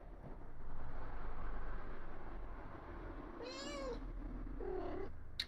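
A pet cat meows indoors at a table, two distinct meows in the latter half over a steady low room hum, fairly close and clear with no talk.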